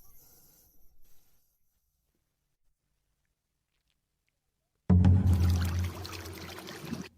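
Water bursts from a freshly dug well: after a long near-silence, a sudden loud gushing splash starts and keeps pouring strongly, close by, with no talk.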